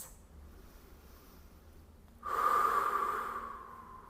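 A deep breath drawn in and let out during a hip stretch on the floor, faint and close, a single audible exhale swelling after a quiet start.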